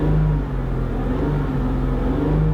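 A BMW E90 with an N52 engine and a performance exhaust holds steady revs around 3,000 RPM, a loud, deep, continuous exhaust drone heard up close without talk.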